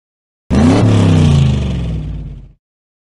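Toy cars in a Curious George game come rushing in as a single loud, close engine-like whoosh that starts abruptly, holds for about two seconds and fades out.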